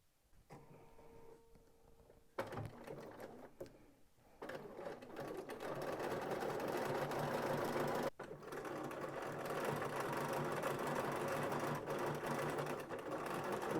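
A domestic sewing machine stitches a zigzag, starting with quiet ticks and short bursts, then running into a steady, fast mechanical whirring with rapid ticking, close and continuous with one brief pause.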